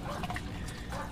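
Water runs into a washing machine tub, a steady, faint rushing splash that persists throughout the short moment.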